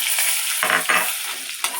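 Steady close sizzling and crackling of cumin, cinnamon, cloves and cardamom frying in hot butter, with a couple of brief stirring scrapes.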